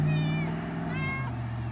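A pet cat meows twice near the microphone, each call drawn out and falling slightly in pitch, over a low steady hum in a home where it has just caught a mouse.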